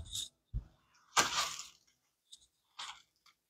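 Crispy fried chicken croquettes and French fries, fresh from the oil, give a handful of short, faint crunching crackles separated by silent gaps.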